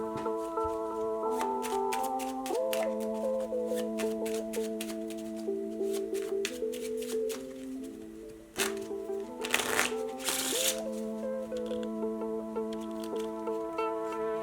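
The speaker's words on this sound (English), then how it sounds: "Let's take the cards and shuffle them quietly." Playing cards riffle and shuffle repeatedly, close up, with brisk flurries of snapping and sliding over soft background music.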